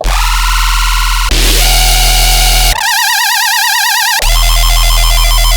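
Loud, harsh tearout dubstep synth preset in Serum 2, screeching and distorted, shifting through several wobbling, buzzy patches over a heavy low bass with no voices.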